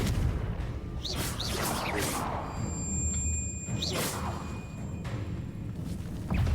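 The Confringo fire spell cast in Hogwarts Legacy, with whooshing swishes and booming blasts repeating over a steady background rumble.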